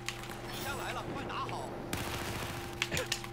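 Rapid gunfire in Battlefield 4 crackles through a busy, noisy game mix, with a few sharper bursts near the end and someone talking over it.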